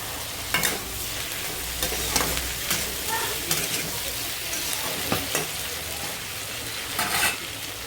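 Tomato goes into a pan of Bengali fish-oil chorchori, which sizzles loudly and continuously while a spatula scrapes and stirs in irregular strokes, with a few sharper clacks standing out.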